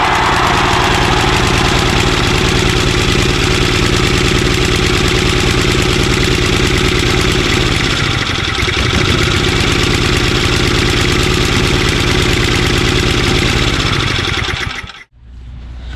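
A Tecumseh 5HP engine on a Simplicity 24-inch two-stage snowblower, fitted with a replacement carburetor, runs at a steady loud idle with an even mechanical drone for about fifteen seconds, then cuts out abruptly near the end.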